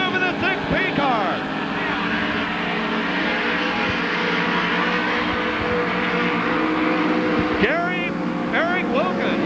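Midget race cars at the 1991 Belleville Midget Nationals race around the track, their engines a continuous droning buzz with occasional rising whines as cars pass, heard under a commentator's steady talk.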